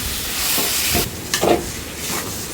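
Chicken pieces stirred into masala in a hot frying pan, giving a loud continuous sizzle with a few scraping stirring strokes close by and no voices.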